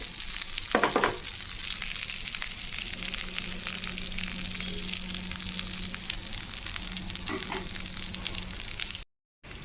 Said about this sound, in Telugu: వాటర్లో తలిపాము కాబట్టి వెంటనే ఇవి ఫ్రై కావట్లేదు కొంచెం టైం పడుతుంది